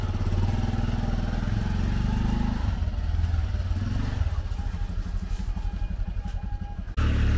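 A motorcycle engine idles and revs close by with a rough, throbbing mechanical rumble, the pitch rising and settling in uneven surges before cutting off abruptly near the end.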